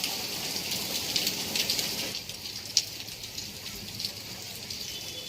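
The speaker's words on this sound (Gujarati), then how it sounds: "અત્યારે વાગ્યા છે બપોરના 12 અને ફૂલ વરસાદ આવે છે." Heavy midday rain pours down hard, a loud dense hiss with bright spattering drops and irregular splashes, easing slightly partway through but staying continuous throughout.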